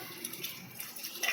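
Tap water runs steadily and faintly into a sink as cut potatoes are rinsed by hand, a soft continuous splash with slight irregular spatters.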